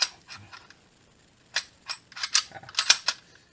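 Beretta APX Centurion pistol with a new grip frame handled during a safety check, giving a series of sharp metallic clicks and clacks as the slide is worked, close and without talking.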